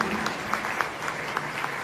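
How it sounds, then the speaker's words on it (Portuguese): Audience applause at an education gathering held by a feminist political caucus: steady, dense clapping from a crowd, moderately quiet and slightly distant, with a few sharper claps standing out. "pedir uma salva de palmas para todo mundo"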